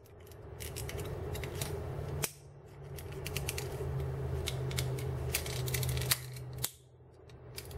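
Plastic Transformers Seacons toy, a connector section folded in by hand, close ratcheting clicks and creaks over a steady low hum, with two sharp snaps as the piece shifts.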